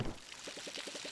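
Water from a watering can in the farming game Palia splashes onto crops in a short, close series of soft, evenly spaced glugs, heard alone.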